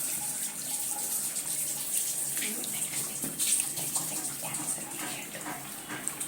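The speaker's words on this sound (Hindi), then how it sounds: "पानी से" Running tap water pours steadily at close range while a Hollister 26901 ostomy pouch is rinsed under it, with faint splashing changes as the pouch is handled.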